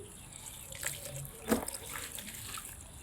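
Water from a tap on a fish farm runs weakly because of low pressure, a faint thin trickle with a few soft splashes, heard alone and fairly close.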